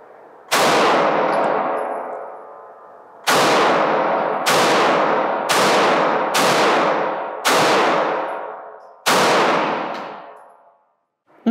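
Seven sharp, loud gunshots from a Springfield Echelon pistol at a shooting range, each ringing out and fading. The first stands alone, then a quicker string of five follows, with a final shot after a short pause.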